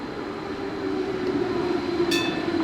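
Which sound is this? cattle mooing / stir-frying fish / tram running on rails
tram running on rails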